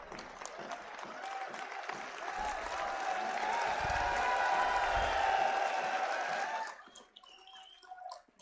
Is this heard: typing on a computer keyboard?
no